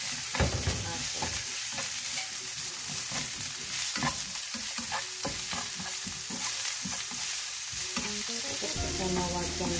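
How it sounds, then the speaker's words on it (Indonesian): Onion, spring onion and garlic are stir-fried in a pan, giving a continuous sizzle broken by repeated scraping and tossing strokes of a utensil, close and busy, with no talking. "Tumisnya dulu guys. Bawang bombay, daun bawang masuk."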